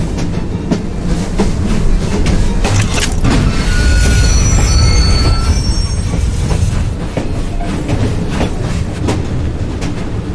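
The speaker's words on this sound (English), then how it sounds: "I really must tell Bob not to make any more improvements on the train" Train in the Assassin's Creed Syndicate game rumbling along rails with continuous heavy low rolling noise, clattering wheels and high metallic squeals, loud and steady throughout with no talk.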